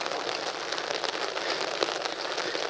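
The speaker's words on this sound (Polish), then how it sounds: "I ten deszcz też jest na swój sposób cudowny." Rain falling steadily on surfaces outdoors, a dense even patter with scattered sharper drop hits, continuous and fairly loud with no voices over it.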